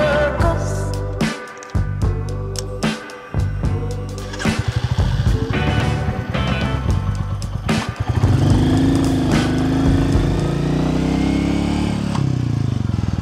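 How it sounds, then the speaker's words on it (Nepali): A Royal Enfield Meteor 350 motorcycle is ridden on a semi-off-road track, its engine a loud, close thumping rumble that stutters and revs before settling into a steady drone. "अब हामी यो बाइकलाई राइड गरेर हेर्छौँ"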